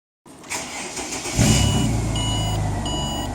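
Ford BA XR6 six-cylinder engine cranking and catching, then settling into a loud, close idle hum while a few electronic chime beeps sound on top; no voices.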